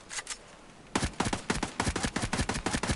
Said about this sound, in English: I'm gonna mag dump his body.